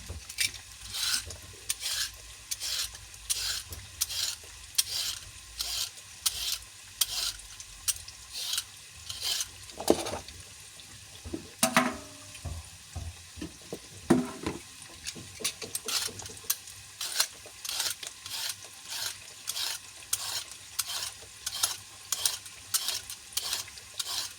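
Carrots are peeled in quick, regular rasping strokes, each scrape short and crisp and close, repeating in a steady rhythm with a brief pause and some handling clatter midway.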